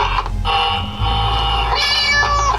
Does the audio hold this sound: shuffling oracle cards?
no